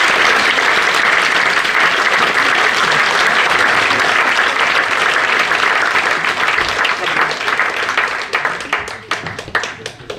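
A large audience of several hundred bursts into loud, dense applause to welcome a nature-sound specialist at an evening talk, the clapping sustained at full strength before thinning into scattered claps near the end.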